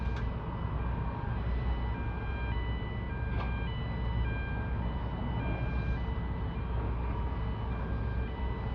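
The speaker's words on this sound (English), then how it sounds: "I forgot that when the siren goes off, they move." A steady warning siren on cargo ship loading equipment sounds over a constant low rumble of heavy machinery, continuing without pause.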